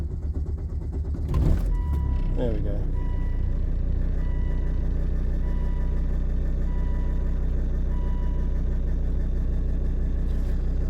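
A Volvo V70 with a fuel pump issue cranks briefly and catches, then settles into a steady, low, even idle nearby. A voice speaks briefly just after it starts.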